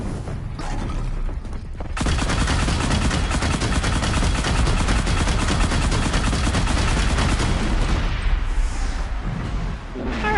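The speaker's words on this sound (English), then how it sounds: "that mine launcher worked" Mine launcher in Horizon Zero Dawn firing in a dense, continuous barrage of heavy blasts and rattling detonations, loud and sustained for most of the stretch after a brief quieter opening.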